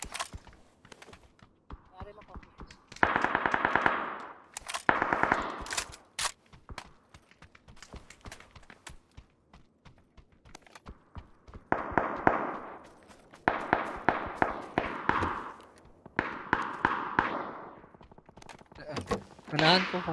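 Gunshots in PUBG on the Vikendi map, some with a suppressor, come in scattered clusters of sharp cracks and short bursts across twenty seconds, separated by quiet gaps.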